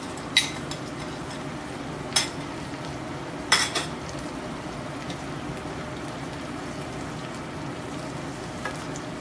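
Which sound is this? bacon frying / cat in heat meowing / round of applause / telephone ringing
bacon frying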